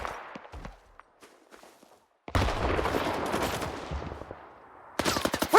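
Bursts of automatic gunfire in the shooter game S.T.A.L.K.E.R. 2: Heart of Chornobyl, loud rapid volleys breaking off into quiet, then resuming with dense rattling shots and footsteps.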